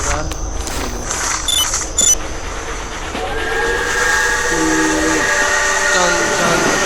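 A train passes in the horror video game Death Park: a loud, steady rolling rumble with a long, hissing whistle tone held above it, plus a short clatter early on, with voices mixed in underneath.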